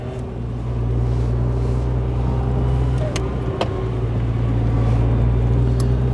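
1930s saloon car cruising on the road at a steady pace, a low constant engine drone and road rumble heard from inside the cabin with a few small clicks and knocks.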